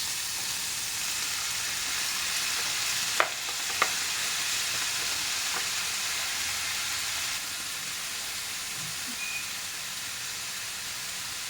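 Chayote and Baguio beans stir-fry for pancit, a steady close sizzle and hiss running throughout, with a couple of sharp clinks from a utensil early on.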